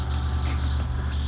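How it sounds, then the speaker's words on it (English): Brake cleaner sprayed from an aerosol can onto the power steering lines under a BMW 328xi, a steady close hiss with two brief pauses in the spray. "Tidy up any oil stains with some brake cleaner."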